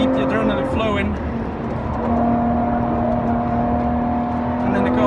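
A Lotus Evora 410 Sport circling a private race track, its engine droning steadily with shifting pitch as it accelerates, loud and close under someone talking.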